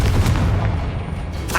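A Confringo blasting spell explodes in the Hogwarts Legacy video game, a loud, dense boom that fills the whole short stretch and then tails off, close and forceful.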